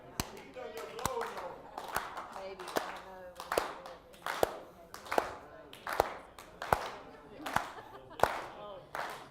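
A group clapping along during a lively game, sharp close hand claps in an uneven but roughly regular rhythm, mixed with scattered voices and chatter.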